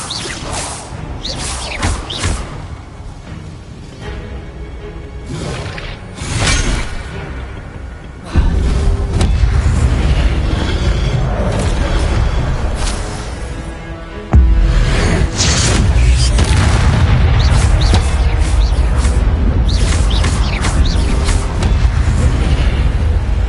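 Spell blasts in the Hogwarts Legacy video game: repeated whooshing bursts and heavy booming impacts crash through a loud, dense stretch of combat sound, with sharp swishes and thuds spread throughout.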